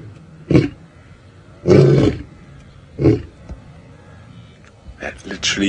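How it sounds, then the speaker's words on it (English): Female lions roar in the wild at very close range, a series of deep, powerful bursts spaced a second or so apart, followed by lower grunting calls. "The females are roaring."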